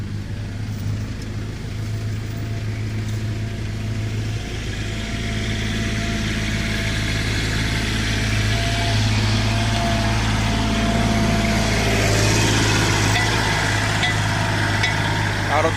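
A steady, droning tractor engine runs continuously at close range, a low rumbling hum with a constant pitch and no breaks throughout.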